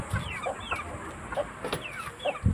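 An Aseel rooster clucks in short, repeated bursts at close range, with no voices and a faint yard background.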